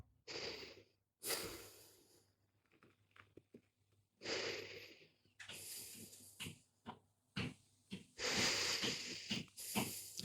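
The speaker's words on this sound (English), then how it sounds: "Let's take 3 breaths." Deep, slow breaths taken during a seated yoga exercise for singers, three drawn-out inhales and exhales with hissing, wheezy airflow close to the microphone, alone without talk.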